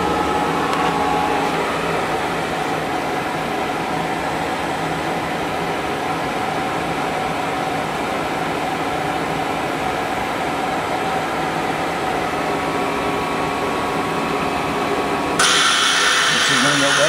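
A KSI SQC-38 CNC Swiss lathe runs at 3000 RPM, recorded a few inches away: a steady, dense mechanical whine and hum holds throughout, with a brighter hiss rising near the end.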